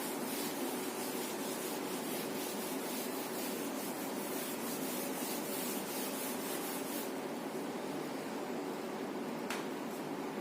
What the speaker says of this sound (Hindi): तो चलिए इसको मैं रब करता हूं